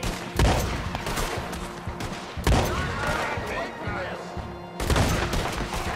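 Gunfire from Red Dead Redemption 2 cracks out in three loud bursts spaced a couple of seconds apart, each followed by a ringing, echoing tail over a steady background din.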